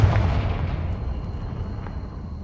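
A Confringo blasting spell explodes in Hogwarts Legacy, landing as one loud, booming blast at the start and then rumbling off into a long, fading low tail, with no voices present.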